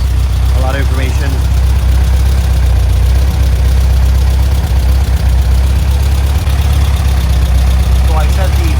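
An air-cooled Volkswagen engine idles steadily while warming up, a low continuous rumble close by with someone talking over it throughout.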